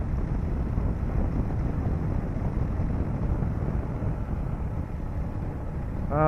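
A KTM 1190 Adventure R motorcycle cruises at speed, its low steady engine drone and road rumble blended with heavy wind rush across the microphone.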